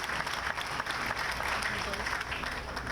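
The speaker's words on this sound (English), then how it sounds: "can we give a round of applause to our mayor?" An audience at a Memorial Day ceremony applauds the mayor, a steady, even wash of many hands clapping heard throughout at a moderate distance.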